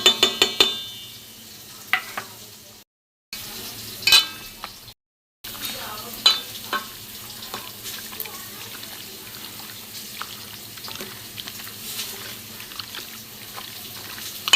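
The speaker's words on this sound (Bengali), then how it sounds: "এইটা আমি একসাথে মেখে নেব।" Raw chicken mixed by hand with turmeric, coriander and cumin powder plus a ground green chili, ginger and garlic paste, giving soft wet squishing and light slaps, faint and intermittent, with two short silent gaps.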